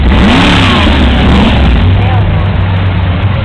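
A Bugatti Veyron engine revs loud and close, a dense roaring blare with a quick rise in pitch early on and a heavy, sustained rumble, while a voice speaks under it.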